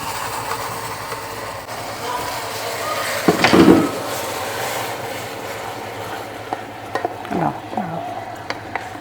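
Hot boiling water hits a pan during carrot cake preparation, giving a brief loud burst of hiss and sizzle around the middle, then low clatters and faint kitchen noise.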